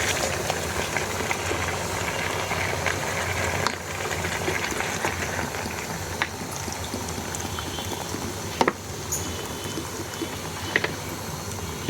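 Olives for a Bangladeshi olive pickle being slowly stirred in plenty of hot oil, a steady bubbling sizzle with occasional scraping clicks, close and continuous.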